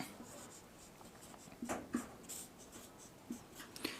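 Chalk or marker taps and scratches on a board during a chemistry lesson on chemical reactions, a few faint, scattered strokes and clicks in a quiet classroom.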